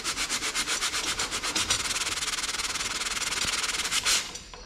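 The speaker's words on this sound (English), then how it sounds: "I'll be looking for bulk emery cloth again." Emery cloth is rubbed over parts from a 90hp Evinrude outboard on a 1960s boat. Quick, even back-and-forth scraping strokes sound close and continuous, then stop with a final scuff.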